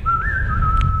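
One clear whistled note, steady and slightly rising before settling, held for about a second over low wind noise.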